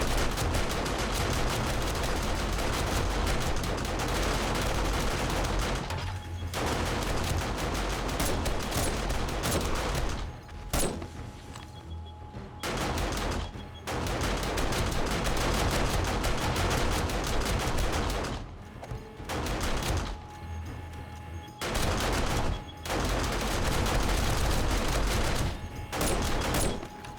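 Sustained automatic gunfire from defensive gun turrets in a survival video game, dense rapid bursts filling most of the stretch with several brief pauses, loud and close, no talking.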